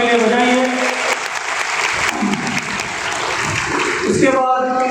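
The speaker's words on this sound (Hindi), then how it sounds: "एक बार जोरदार तालियां इल्म के सितारों के लिए बजाइए।" Loud, sustained applause from an audience at a grand student felicitation ceremony, honouring students, with dense clapping filling the whole stretch and a voice over it near the end.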